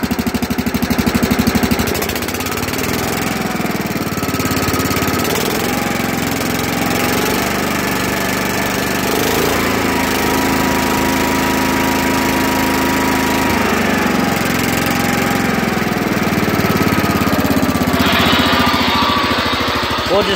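A Kohler 12 hp engine runs steadily after a carburetor change, its loud, even buzzing drone holding close throughout with small shifts in pitch and no talking.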